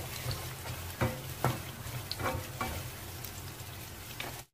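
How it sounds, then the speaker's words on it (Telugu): Spices sizzle in hot oil in a pan, tempering for wheat rava upma, a steady soft crackle with a few sharper pops scattered through, close and fairly quiet, with no voices. "తాలింపు వేగుతున్నప్పుడు గుమగుమలాడుతూ వాసన వస్తూ ఉంటుందండి"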